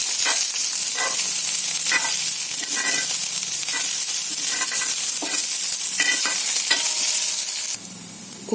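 Garlic cloves, chopped coconut and onions fry in a pan for bitter gourd rice, giving a steady, close sizzle broken by repeated stirring scrapes and clinks before the sound drops quieter near the end.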